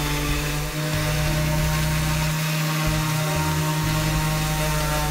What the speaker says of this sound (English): Do not apply pressure to the sander,